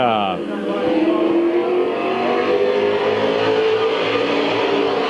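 Street stock race cars roar past at Midvale Speedway in 1999, engines revving in a loud, sustained drone with a falling pitch sweep as they pass, under an announcer's voice.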